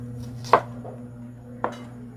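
Onion being finely chopped for chicken lollipop, with two distinct knife strikes on a cutting board about a second apart, close and fairly faint over a steady low hum.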